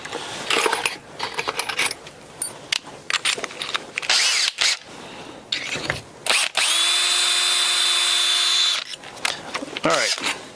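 A power drill drilling into a golf club whirs in short bursts, then runs in one long steady high-pitched whine, with clicks and handling noises between runs.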